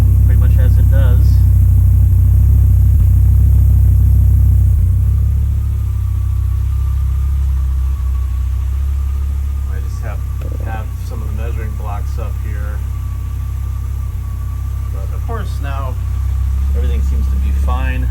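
An Audi UrS4 engine with a rich running fault idles with a deep, loud rumble, eases after a short throttle blip, and keeps running steadily while someone talks over it.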